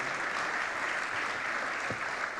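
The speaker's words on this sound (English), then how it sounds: "Round of applause for him." An audience at a cyber capacity building conference gives a steady, moderately faint round of applause, a dense wash of clapping that holds evenly without voices.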